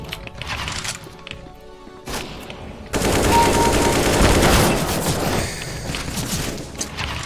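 Rapid automatic gunfire from a Counter-Strike: Global Offensive deathmatch, with scattered shots early, then a loud sustained burst of fire that tapers off toward the end.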